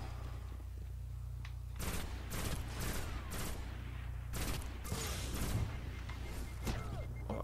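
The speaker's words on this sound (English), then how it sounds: "Oh, they're sniping us." In a Destiny Crucible match, bursts of gunfire and heavy thumps crack out in irregular clusters over a steady low game hum, several sharp shots spaced a second or so apart.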